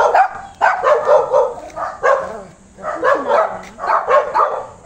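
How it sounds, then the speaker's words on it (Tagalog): A small pet dog yips and barks in short repeated bursts close by, mixed with cheerful voices greeting it in a garden full of plants and flowers. "Ang cute ng aso."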